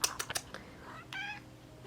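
A domestic cat meows while inspecting a sewing project for an Ancient Egyptian tunic, one clear meow after a few quick taps and rustles, close and fairly quiet.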